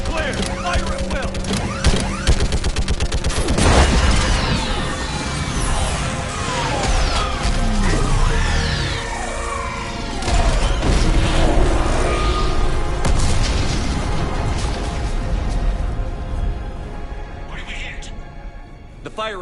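A Mass Effect battle against a live Reaper roars with dense, continuous gunfire, heavy booms and orbital strike explosions, loud and unbroken, while voices call out over the chaos.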